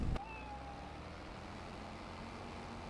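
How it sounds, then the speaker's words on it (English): A cat in the farming game Farming Simulator 25 gives a single faint, brief meow right at the start, then only a low steady ambient hum remains. "Heard a cat. Sounds like this property came with a cat."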